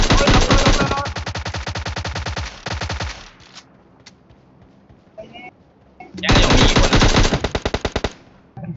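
Video game gunfire comes as long, loud bursts of rapid automatic shots up close, then a quieter stretch with scattered thuds and clicks before another heavy burst resumes.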